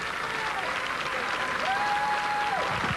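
A studio audience applauds on a 1988 Nashville country music television talk show, sustained full-house clapping holding level throughout, with faint cheering or whistling riding on top.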